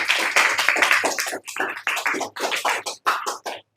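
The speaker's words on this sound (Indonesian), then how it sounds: "tepuk tangan dulu untuk kelompok" A class of students claps for a presenting group in a classroom, loud close applause with irregular bursts of hand claps that thin out and pause before picking up again.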